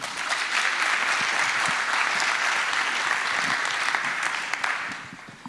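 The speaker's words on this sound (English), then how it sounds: "So please give a big round of applause." An audience at a talk introducing neural networks with Python welcomes the speaker with sustained, even applause, full and fairly close, which fades slightly at the very end.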